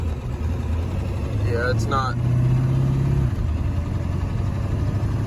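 A Mustang skid loader engine runs as the machine drives off, a steady mid-pitched drone close by, with a man's brief speech over it.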